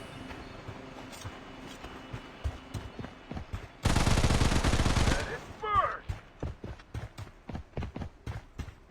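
Gunfire in the shooter video game Blood Strike, a string of sharp repeated shots with a loud sustained burst in the middle, followed by further rapid cracks.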